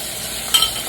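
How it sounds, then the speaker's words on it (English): Eggs frying in a hot pan with charred tomatoes and scallions give a steady, even sizzle, with a brief stirring scrape near the middle. "When you add the eggs, make sure to only cook them for 3 to 5 seconds"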